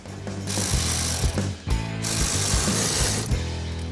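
A ratchet wrench tightens bolts on a car pedal box assembly, giving bursts of rapid close clicking separated by brief pauses, with no talking.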